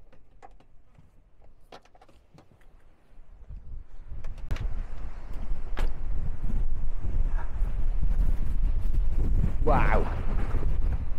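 Gusts buffet the microphone on a rugged seaside coast at Hartland Quay, Devon, with low rumbling roar that grows stronger and stays heavy; a person briefly exclaims over it.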